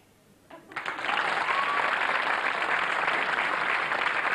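An audience bursts into applause for a singer on a late-night Israeli TV comedy show, swelling from quiet within a second into dense, sustained clapping that stays loud to the end.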